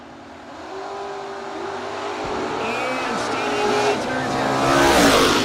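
An Oldsmobile and a wheel-standing Mustang launch in a drag race at a No Box Open, their engines rising in a loud building roar with rising pitch, an announcer speaking over the noise.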